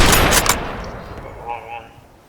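Gunfire in a World War One shooting video game, a burst of loud shots at the start fading into softer distant reports and tones, with no talking.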